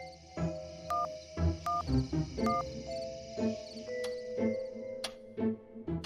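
A telephone is dialed, with a run of quiet keypad beeps and clicks pressed one after another at an uneven pace. The tones are close by and stand alone without speech.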